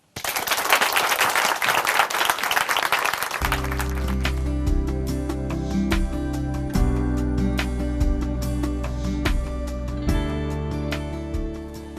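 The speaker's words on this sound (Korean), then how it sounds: "춘천 한마음교회 오민정 자매님 박수로 모실게요." A church congregation at a Korean Christian testimony program applauds to welcome a speaker, a dense burst of clapping for about three seconds that gives way to loud instrumental music.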